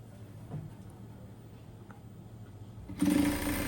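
A sewing machine stitching a tracksuit starts up abruptly near the end, a close steady mechanical whir after a stretch of faint quiet room noise.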